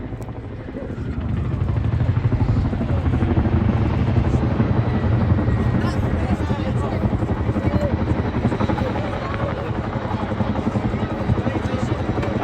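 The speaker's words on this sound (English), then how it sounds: "this is the manoeuvre we use to bring this Chinook to a stop from 120 knots or more" A Chinook helicopter at the Blackpool air show makes a loud, deep rotor thudding and beating as it flares hard to a stop from high speed, holding close and strong throughout.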